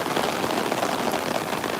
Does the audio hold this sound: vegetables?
no